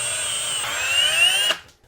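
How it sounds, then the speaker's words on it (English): A power drill whines steadily as it bores a pilot hole into a wooden wall stud for a floating shelf, holding a high motor tone for about a second and a half before spinning down and stopping. "Just drill a hole, a pilot hole in your stud"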